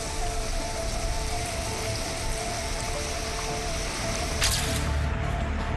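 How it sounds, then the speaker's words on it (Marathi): Heavy rain pouring in Nanded district, a dense, steady hiss of drops hitting the ground and surfaces, loud and unbroken, with no voices. "नांदेड जिल्ह्यामध्ये मुसळधार पावसाची हजेरी"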